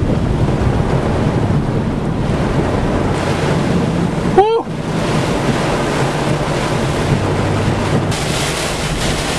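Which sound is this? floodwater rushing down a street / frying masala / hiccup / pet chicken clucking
floodwater rushing down a street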